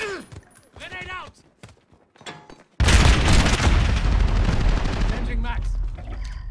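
In Call of Duty: Modern Warfare, radio-style voices speak briefly before a loud grenade blast erupts close by, followed by sustained heavy gunfire and rumbling.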